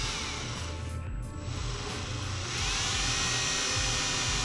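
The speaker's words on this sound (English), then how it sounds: "as soon as we put this on the drill, you'll see why this valve is bad" A drill spins a bent engine valve from a BMW E39 M5 at low speed. It gives a continuous close whirring whine that shifts slightly in pitch partway through.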